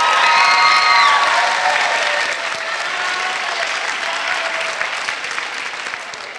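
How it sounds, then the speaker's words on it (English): A large assembly audience at a high school teen court event gives volunteer portrayers a sustained round of applause, loud at first and slowly thinning over several seconds, with a few scattered cheers. "So I'd ask you to give them a big round of applause"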